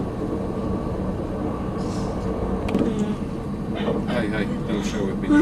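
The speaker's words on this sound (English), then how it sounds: "12 hours on a train. Pretty fast train though." Swiss passenger train at speed, a steady rumbling roar of wheels on track inside the carriage, with voices talking over it in the latter half.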